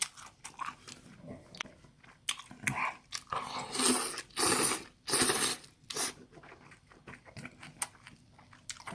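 Biting and chewing while eating, with crunchy bites in bursts and soft mouth sounds between them, close up, during a meal of spicy fire noodle black bean noodles and side dishes.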